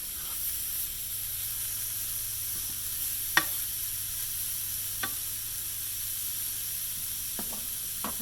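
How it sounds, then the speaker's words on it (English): Pork browning in a hot pan gives a steady, even sizzle and hiss that runs the whole time, with a few faint scrapes and taps from stirring. No one speaks. "browning pork"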